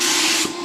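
A sprayer hisses a finish onto a jagged, deep-textured stone fireplace, a brief steady close spray that eases off at the end.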